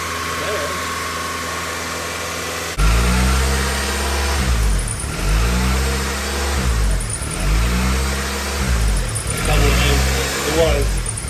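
A Honda Element engine idles unevenly, its low hum rising and falling in repeated surges after a sudden start, with faint voices at times.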